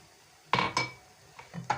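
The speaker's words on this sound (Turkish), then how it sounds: "Kapağını kapatalım." A pot lid is set down on a pot of eggplant stew, giving a couple of sharp metallic clinks followed by lighter rattles as it settles, close and clear.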